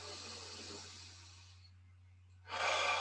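Soft inhale and exhale during a calming breathing exercise, a gentle airy breath fading to near silence before a louder breathy rush returns, close and quiet.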